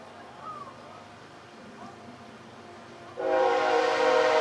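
A train passes near a baseball game, starting as a faint distant rumble with bird calls, then surging into a loud, steady rolling roar of rail cars that fills the last second.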